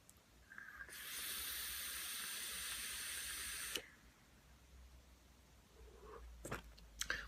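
A long, steady hiss of e-cigarette vapor being exhaled, about three seconds of broad breathy rush, followed by quiet room tone and a few faint clicks.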